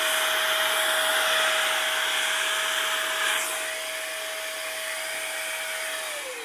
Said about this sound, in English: I can show you actually how powerful it is for a tiny air duster.